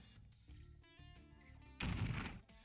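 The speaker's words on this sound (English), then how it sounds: "We're going to go ahead and do one more missile strike." A missile strike booms in the strategy video game Power & Revolution, a sudden loud crashing blast that breaks in over game music and fades within about a second.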